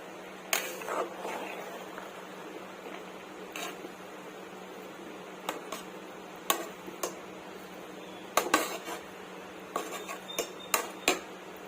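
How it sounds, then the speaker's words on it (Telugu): Mushroom biryani is turned slowly from bottom to top in a pot, with scattered spoon clinks and scrapes against metal over a quiet steady hum. "ఒకసారి కింద నుంచి పైకి ఇలా కలుపుకుందామండి"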